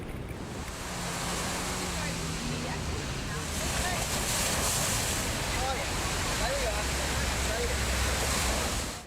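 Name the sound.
inflatable rescue boat engine idling in surf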